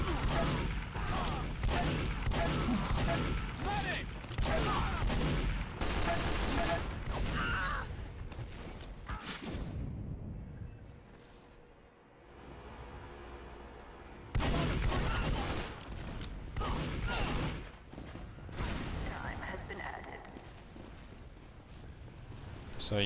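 Video game gunfire in a competitive shooter, with repeated shots and bursts throughout, under steady talk, dropping to a quieter stretch midway before the shooting resumes.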